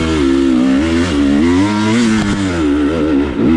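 A loud KTM 300 dirt bike engine roars close by while climbing a hill, its pitch rising and falling as the rider works the throttle.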